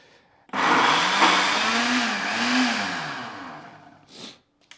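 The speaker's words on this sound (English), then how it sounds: "This is a new blender" A blender motor whirs loudly for several seconds, its pitch rising and dipping as it churns, then cuts off, followed by a brief rattle.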